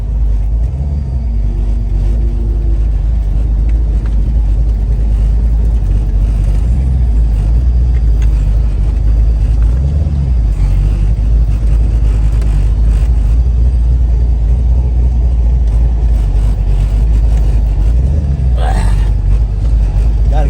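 A car is driven on a short test run after its brakes were bled, giving a continuous low road and engine rumble throughout with occasional thumps, no clear talk.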